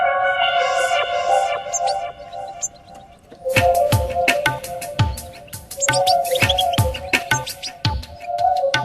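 A finch chick begs for food with rapid, repeated high-pitched peeping, insistent and close, punctuated by sharp clicking bursts.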